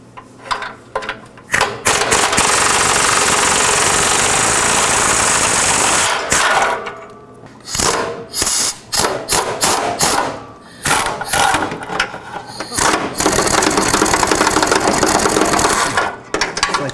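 A ratchet wrench works on 15 mm exhaust manifold nuts of a 1997–2003 Ford F-150 with the 5.4L 2-valve engine, giving loud close clicking bursts that start and stop in uneven spells with short pauses between.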